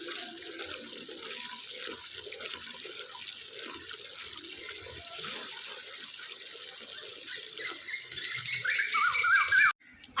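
Steady rush of splashing water washing a floor runs throughout, growing louder near the end before cutting off abruptly, with no voices.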